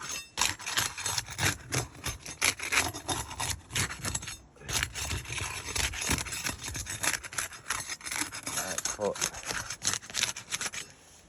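Old, worn-out asphalt roof shingles with failing bitumen strips being pried up and loosened, giving continuous scraping, rubbing and cracking noises with irregular bursts, close by, while someone talks over the work.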